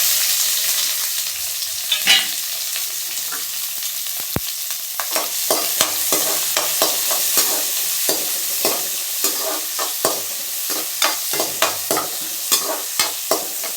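Chopped onion and crushed garlic sizzle in hot oil with popped mustard seeds and curry leaves for a spinach kootu, a loud continuous fry broken by frequent scraping stirs of a spoon in the pan.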